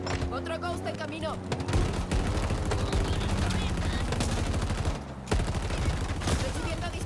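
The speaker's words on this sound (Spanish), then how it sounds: "Recibiendo disparos." Rapid gunfire erupts in a Halo Infinite battle, bursts of shots and booms layered over a steady engine drone, with a brief lull before the firing resumes.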